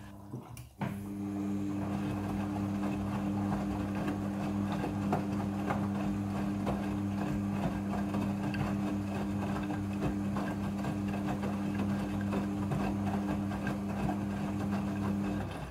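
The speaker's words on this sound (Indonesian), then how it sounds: "Setelah proses pemerasan selesai, masuk ke proses pembilasan air yang kedua." Steady mechanical hum from a front-loading washing machine in its rinse cycle, with a strong low drone and sloshing, churning texture, running continuously and close by without pause.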